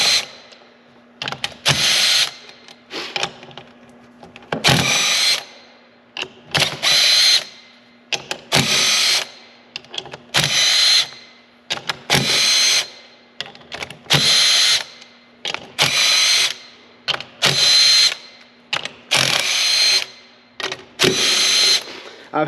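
A power tool, likely an impact or drill driver, loosens bolts in a cross pattern while a locker is installed on a 2021+ Mule Pro; about eleven loud, close bursts alternate with brief pauses, and no one talks.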